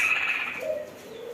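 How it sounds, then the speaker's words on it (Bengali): Caged pigeons and doves coo in a poultry and pet shop in Oman that also sells chickens, ducks, quail and rabbits. A close, soft, wavering coo runs through the short moment, with no one talking. "পাখি কি সুন্দর করে ডাকতেছে"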